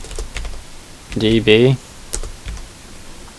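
Keystrokes on a computer keyboard while entering MySQL commands, a few scattered clicks in quiet surroundings, with a short spoken word in the middle.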